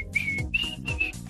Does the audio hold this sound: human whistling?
yes